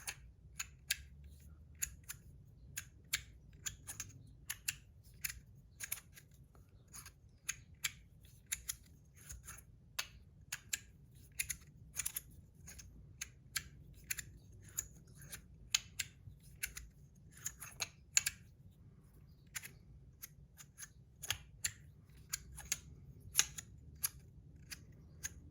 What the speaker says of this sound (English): I like them to make a nice, decent click.